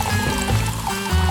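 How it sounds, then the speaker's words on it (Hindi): Sprite is poured into a glass decorated with strawberry syrup, a close, continuous gurgling and fizzing pour that carries on for the full second and a half. "इसके बाद ग्लास में स्प्राइट डालेंगे।"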